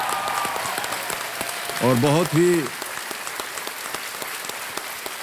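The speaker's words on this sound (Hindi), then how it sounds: "तालियां बजाएं" Studio audience applause for a KBC quiz show contestant who has just won 25 lakh rupees, steady clapping throughout with a brief burst of speech partway through.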